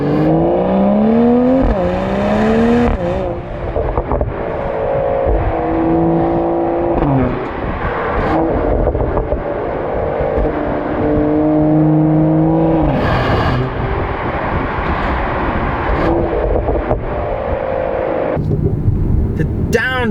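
A 2020 Mercedes-AMG GT 43 4-Door accelerates through its gears, and the engine and exhaust rise in pitch, drop at each shift and pop with crackles. The sound is loud and close, with someone speaking over it.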